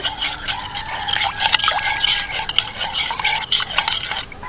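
A spoon stirring yogurt mixed with ground spice and chopped coriander in a bowl, soft wet scraping and clinking strokes repeating steadily at close range, with no voices.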